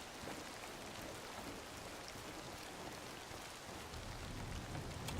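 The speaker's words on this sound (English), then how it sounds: "The rain and the thunder are great" Steady rain falling in the hunting game Way of the Hunter 2, a soft continuous hiss with faint low rumble of distant thunder, no talking.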